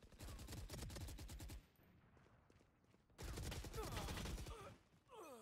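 Rapid automatic gunfire in the Valorant shooter game, two loud sustained bursts of fast shots separated by a short quieter gap, close and dominant.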